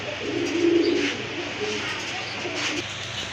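Low, soft pigeon coos in two short bursts over a steady murmur of background noise.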